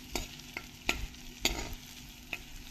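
Ginger and garlic being stirred in melted butter in a pan for soup, with a few sharp spoon scrapes and clinks over a soft, steady sizzle; no talking.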